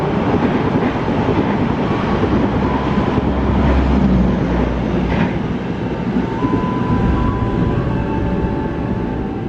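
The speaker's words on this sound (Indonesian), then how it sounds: "jalur 1 akan melintas kereta api Tegal Bahari 204" The Tegal Bahari 204 passenger train passes on track 1 nearby, a loud continuous rumble with rail clatter and faint tonal squeals, no talk.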